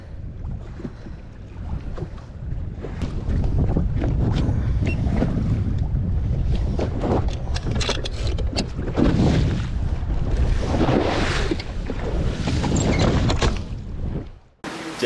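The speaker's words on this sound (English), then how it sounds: "Guess we just had to come to the windy side." Strong wind roaring across Lake St. Clair around a fishing boat, a constant loud buffeting rush with gusty surges and no pause, dropping off abruptly at the very end.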